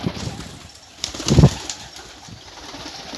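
A flock of pigeons bursts out of a loft with a loud flurry of flapping wings, peaking in one sharp close rush before settling into soft rustling and faint cooing.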